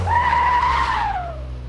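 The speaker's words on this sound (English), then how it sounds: "You can drift these cars pretty easy." A classic car in a Car Mechanic Simulator 2026 demo drifts through a corner, its tires letting out one loud, sustained squeal that rises and then falls away over a steady engine rumble.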